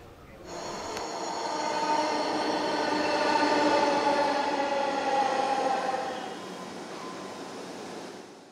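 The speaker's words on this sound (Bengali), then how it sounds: "চালু হচ্ছে মেট্রো রেল" A metro train runs steadily with a broad rushing rumble and high whine that swells and then eases slightly, close by, with no talking.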